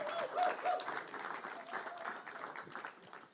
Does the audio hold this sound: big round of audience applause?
yes